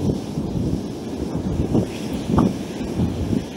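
Gusty wind buffets the microphone on an open, windy day of fishing, with waves or water sloshing in the background; a steady low rumble swells and eases in broad gusts throughout.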